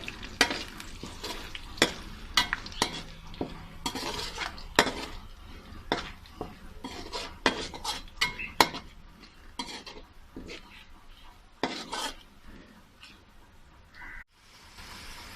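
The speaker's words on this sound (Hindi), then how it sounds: "2 से 3 स्टिक दालचीनी के हैं, 2 बड़ी इलायची हैं, 1 छोटा चम्मच लौंग का है। हल्का सा इसको फ्राई करेंगे।" Whole spices, cinnamon sticks, large cardamom pods and cloves, lightly frying in a pan with soft sizzling, repeated stirring scrapes and clinks of a utensil against the pan, close and steady.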